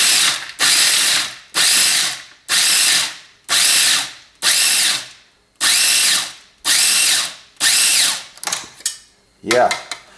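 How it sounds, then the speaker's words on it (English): A small food processor pulses walnuts in a run of about ten short, loud whirring bursts with quiet gaps between them, the last few quicker and choppier. "I'm just using a small food processor."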